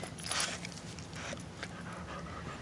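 A dog pants in quick, breathy rhythm close by, steady and fairly quiet throughout, with no talking over it.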